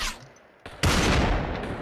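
Gunfire in Fortnite VR: a faint burst early on, then after a short lull a loud, sustained volley of shots that carries on to the end, close and harsh.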